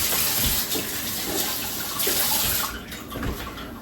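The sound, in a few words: rinsing a knife under running tap water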